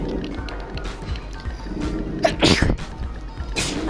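A single sneeze bursts out suddenly in the middle of a noisy stretch of Gang Beasts gameplay, with a short sharp attack, brief and fairly close amid the game's background clatter.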